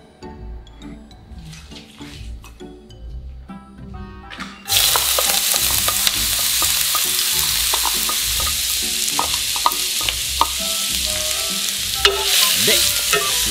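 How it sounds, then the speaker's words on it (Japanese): Minced onion frying in a pan in an anime cooking scene, quiet scraping and knocks at first, then a sudden loud, dense sizzle that holds steady with occasional utensil clicks. "で、しんなりするまで炒める。"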